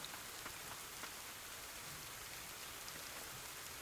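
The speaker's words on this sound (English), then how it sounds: "Is this water falling from above? Oh, has she never seen rain before?" Rain falls steadily in the video game Ender Magnolia: Bloom in the Mist, a soft, even wash of dense droplets with faint scattered patters throughout.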